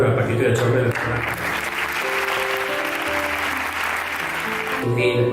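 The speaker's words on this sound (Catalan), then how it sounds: "Un aplaudiment, per favor, al Paquito i al Chorme del programa." Applause from an audience at a charity gala against cancer, a steady dense clatter of many hands sustained for several seconds, with a voice speaking over it through the middle.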